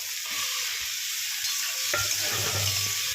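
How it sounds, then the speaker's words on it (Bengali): Boiled potatoes go into a pan of softened onion and tomato, making a soft, even sizzle with a low scrape as they are stirred in, and no voices. "এবার আমি আলুটা দিয়ে দেবো"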